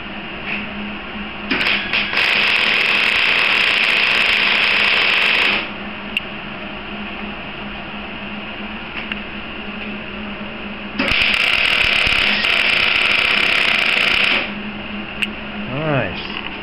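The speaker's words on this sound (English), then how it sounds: "We'll tack weld the ends together, and then Carmen will run a bead down the middle." Welding bead being run down the middle of tacked metal strips for a go-kart frame, a steady loud crackling buzz in two long stretches of several seconds each, separated by a quieter pause with faint background noise.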